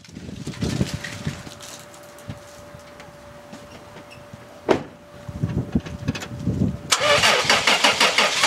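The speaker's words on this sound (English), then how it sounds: "So now I have this load tester connected up to my truck battery. And I'm going to try to start the truck." A truck engine cranks with a battery load tester connected, rough churning bursts and a sharp click before it catches and settles into a loud, steady running roar near the end.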